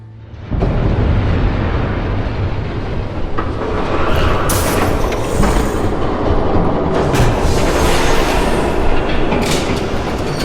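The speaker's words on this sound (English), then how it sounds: "There's a train coming." Train rumbling loudly past in the Batman Telltale video game, a sudden onset into a dense, sustained roar of rolling wheels with occasional metallic screeches, no talking.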